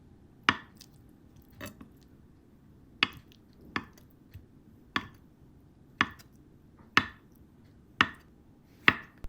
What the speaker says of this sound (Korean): 두부는 한 입 크기로 잘라주세요.